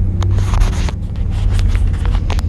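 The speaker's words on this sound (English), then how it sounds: "Brakes are still making some funny noises." Brakes on a 1960 Cadillac Coupe Deville making odd noises while driving, with scraping, squealing bursts over a steady low engine and road rumble, heard close from inside the car.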